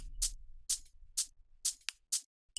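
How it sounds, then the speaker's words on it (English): Shaker loop from a future trance track, with six crisp, bright, evenly spaced hits repeating alone in a steady rhythm, close and clear, with a faint low hum underneath. "And then a shaker loop."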